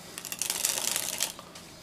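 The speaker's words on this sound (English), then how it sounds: "the dribble is essentially the same mechanics as a riffle shuffle" A deck of playing cards dribbled from one hand to the other in the same motion as a riffle shuffle: a rapid, close, steady flutter of card edges lasting about a second and a half before trailing off.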